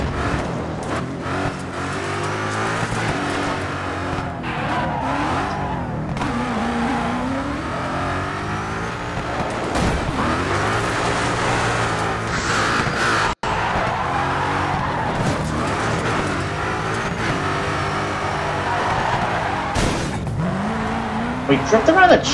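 A car in the Dirt Showdown game drifting around a chimney at Battersea Compound power station, with loud, sustained tire squeal and a revving engine that rises and falls continuously for over twenty seconds, with a voice talking now and then.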